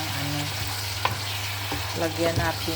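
Onion for chicken liver adobo sautéing and being stirred in a pan, with a steady close sizzle broken by scraping strokes and a few sharper clinks of the utensil.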